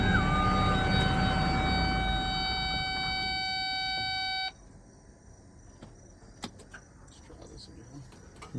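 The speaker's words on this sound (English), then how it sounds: "that alarm is saying, hey, it's switching, the hydraulics are switching" A CAT skid steer on rubber tracks sounds a steady high electronic alarm tone over its running engine while the hydraulics switch, then the alarm cuts off, leaving quieter machine noise with scattered clicks.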